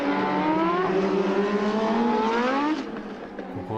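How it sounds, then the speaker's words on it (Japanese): Keke Rosberg's 1983 Formula 1 car with a Ford Cosworth engine screams past, a loud, high, rising engine whine that climbs in pitch, then drops away abruptly into quieter background. "フォードエンジン、コスワースエンジンを乗せたこのロズベルグのマシン、一気に勢いを得て前のピケを狙っていきます"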